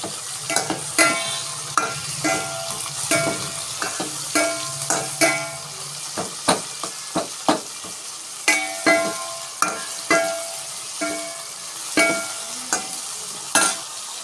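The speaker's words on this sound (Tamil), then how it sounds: "மிளகாவையும் தக்காளியும் போட்டு வதக்குறோம்." Chillies and tomatoes sauté in a pan for a tamarind curry, giving a steady close sizzle broken by repeated scraping stirs at an uneven rhythm, with no voices.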